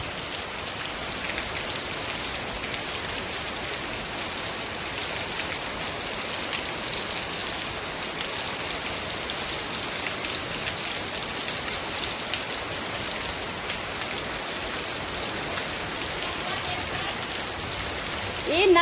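Steady rain pours down in a dense, even hiss that holds unbroken and close for the whole stretch, with no voices over it.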